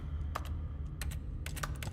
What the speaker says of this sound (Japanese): なんかキーボードの音